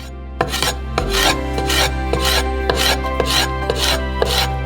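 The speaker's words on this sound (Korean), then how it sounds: "피망에서 펄프를 발라내고 작은 조각으로 썰어주세요." A knife chops bell pepper into small pieces on a cutting board, steady rhythmic taps in quick succession, close and clear over a low steady hum.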